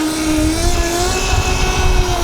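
An ETM RTR Revolver Alpha RC car with an upgraded motor runs rough and chuggy, giving a steady whining drone with a slightly unsteady, sputtering texture underneath.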